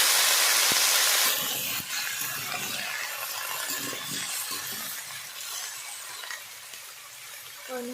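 Cut vegetables for a soybean mixed-vegetable dish drop into a hot pan of fried spices with a loud burst of hissing that settles into a softer, continuous sizzle close by.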